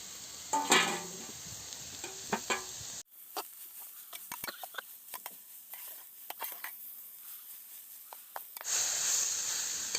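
A spoon stirs a jackfruit vegetable dish with stone-ground masala in a pan, soft scraping strokes and gentle sizzling close by, with a brief louder hiss near the start and end.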